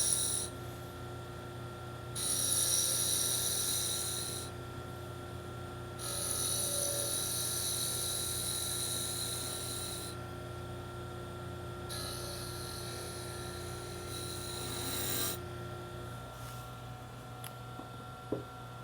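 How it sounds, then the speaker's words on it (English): A wood lathe spins a small toy top as a spindle detail gouge cuts into it, giving a steady motor hum with several bursts of higher scraping and cutting noise, close and continuous. "And the spindle detail gouge to round the corner over."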